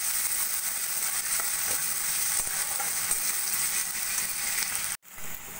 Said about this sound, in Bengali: এবার ভালো করে মশলাগুলো ভাজা ভাজা করে নেব।